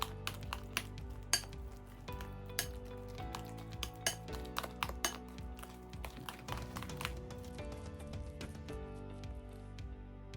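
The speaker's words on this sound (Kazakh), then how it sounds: "Тағы да жақсылап араластырамыз." Potato puree being stirred with two eggs in a bowl, with repeated light clinks and scrapes of a utensil against the bowl in an uneven rhythm, close and moderately quiet, with no voices.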